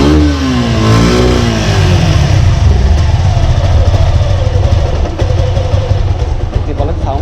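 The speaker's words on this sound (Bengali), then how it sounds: "বাইকেরটা একটু সাউন্ড আমি স্টার্ট করে দেখাই আপনাদের" A Suzuki Gixxer SF motorcycle engine runs close by with rising revs and then a steady idle rumble, while someone talks over it throughout.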